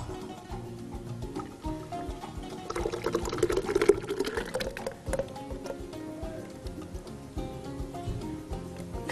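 Liquid poured while cooking a baked pasta dish with sausage and béchamel, a steady wet pouring and splashing sound that builds in the middle, with no talking.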